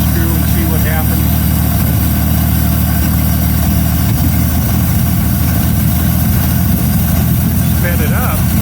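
A 1933 Auburn V12 boat tail Speedster idles loud and close after 58 years in a museum, a dense steady rumble with a slightly uneven beat under faint background voices.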